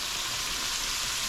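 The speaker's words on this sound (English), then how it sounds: "nice and vigorously frying here" Steady, vigorous sizzling of snapper nuggets frying in hot oil, close and continuous with no talking.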